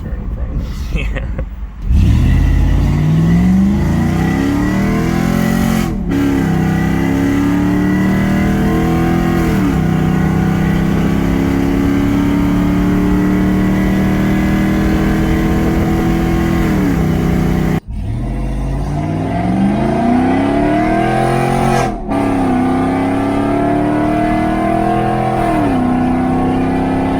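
A V8 fourth-generation Toyota 4Runner with a closed exhaust cutout revs and accelerates loudly up close, its engine note rising and falling in several long pulls with brief lifts, while people talk over it.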